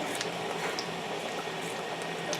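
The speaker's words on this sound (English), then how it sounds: "Add a little bit of water just so it can sit there and simmer." Beef gravy made with home-canned meat simmers in a pan with a little added water, giving a faint, steady bubbling and soft popping, with no talk.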